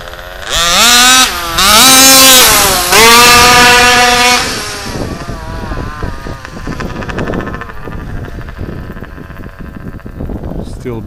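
An HPI Baja RCMAX 90 RC car engine running lean and starved for fuel, revving loud and high in rising bursts, then settling into a rougher, uneven idle.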